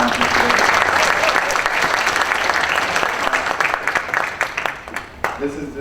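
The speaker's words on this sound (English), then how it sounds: "So give yourselves a round of applause." Conference attendees applaud loudly at a faculty advisory committee gathering, a dense wash of hand claps that holds steady, then thins into scattered individual claps as it fades near the end.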